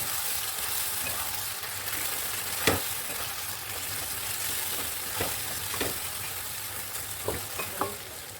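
Papaya malaikari gravy bubbles and sizzles in the pan after a splash of water, a steady close frying hiss broken by a few soft clicks of stirring, with no talking.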